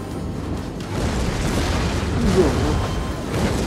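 Artillery fire in the Total War: Attila strategy game, a steady heavy rumble of distant booms and battle noise blending into one continuous roar, loud throughout, with faint voices beneath.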